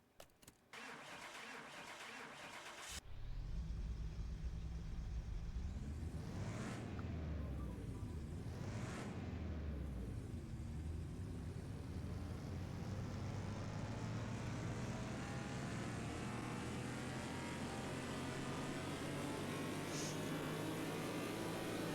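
Car engine in Car Mechanic Simulator 2021, a Porsche 964 on a dyno, silent at first, then starting abruptly and revving up and down twice before holding a loud, steady full-throttle roar.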